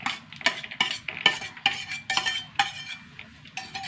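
Soaked, unground lentils being mixed by hand with chopped shallots and asafoetida for parippu vada, heard as irregular close clacks and clinks against a bowl with soft rustling between them and no talk.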